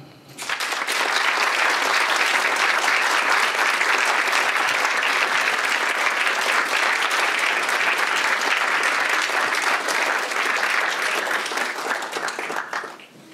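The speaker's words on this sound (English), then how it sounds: "please keep on applauding" Audience applause after a neuroscience talk, a long, even wash of many clapping hands that starts quickly, holds steady for about twelve seconds, then fades out.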